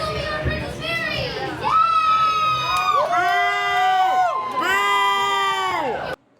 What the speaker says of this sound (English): there's no way to take out this rude booing